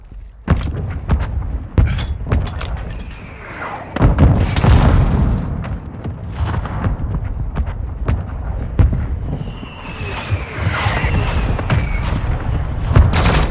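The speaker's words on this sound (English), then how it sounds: "Hostile mortar strike in the area." Mortar strike explosions in Call of Duty: Modern Warfare II team deathmatch on the Farm 18 map: several heavy booms and thuds at irregular intervals amid dense battlefield gunfire and game noise.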